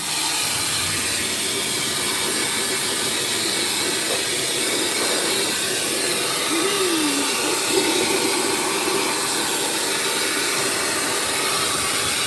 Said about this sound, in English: That's this little dryer.